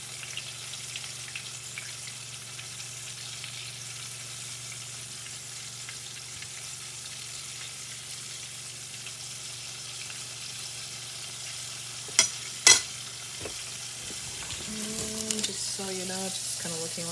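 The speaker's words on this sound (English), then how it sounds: "putting the floured chicken into my skillet that I heated with some oil" Floured chicken pieces for a copycat chicken sandwich frying in hot oil in a skillet, a steady close sizzle throughout, broken near the end by a few sharp clinks and a brief tonal squeak.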